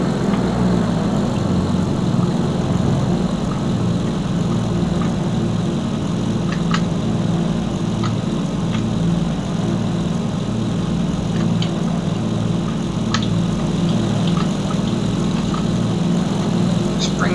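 Propeller aircraft engine droning in IL-2 Flight Simulator, a loud constant buzzing hum that stays steady from start to finish, with faint clicks now and then over it.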